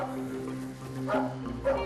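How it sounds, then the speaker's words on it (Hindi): A dog barks a couple of times at a middle distance, short yipping calls rising over a steady low background hum. "इस कुत्ते का भौंकना आपको अजीब नहीं लग रहा?"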